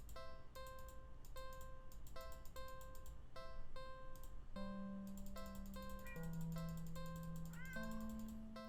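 A cat meows a couple of times in a video game, the short, wavering cries sitting over repeated plinking musical notes at low volume.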